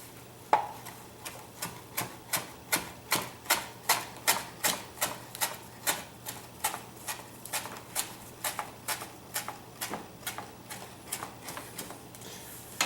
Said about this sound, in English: Okay, and then we chop.